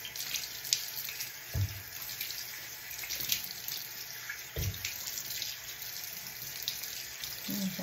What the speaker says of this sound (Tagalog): Malamig na tubig.